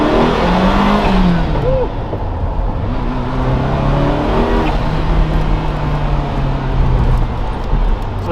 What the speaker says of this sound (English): So did you hear the turbo noise